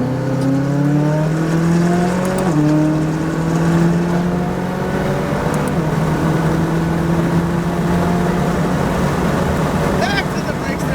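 A McLaren 570 GT4 race car engine roars close and loud as the car accelerates, its pitch climbing steadily through gear changes, with a voice speaking over the noise.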